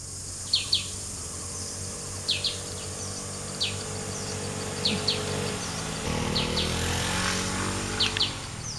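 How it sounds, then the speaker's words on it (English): Jungle insects and birds on a tropical Thai island: sharp, high chirps repeat in short pairs over a steady outdoor hum and insect drone, with a low rumble swelling midway through. "a little taste of the jungle scene here and the various insects and birds you can hear"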